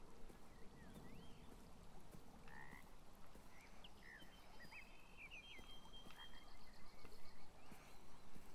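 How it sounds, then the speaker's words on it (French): Frog croaks from the video game Beyond Eyes, a few short croaking calls scattered mid-clip over a steady outdoor ambience with faint water, moderately quiet and without talk. "Une grenouille là, je crois."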